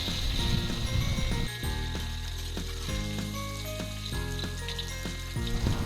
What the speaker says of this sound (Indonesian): kita panaskan wajan yang udah ada minyaknya dan kita tumis sambal tempenya